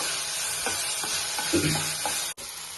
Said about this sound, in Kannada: ಆನಿಯನ್ ಮತ್ತೆ ಟೊಮೊಟೊ ಸ್ವಲ್ಪ ಫ್ರೈ ಆದ್ಮೇಲೆ ಅರಿಶಿನ ಪುಡಿಯನ್ನು ಹಾಕಬೇಕು.